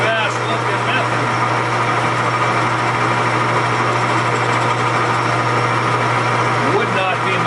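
A lathe runs steadily during neck-turning, a constant close mechanical hum and whine that holds at an even level throughout with no pauses or changes in pitch.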